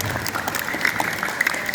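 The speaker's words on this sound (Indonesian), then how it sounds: "Tepuk tangan lagi." Crowd applause at a school flag-raising ceremony, a brief burst of dense, steady clapping at moderate level with a few sharper claps standing out.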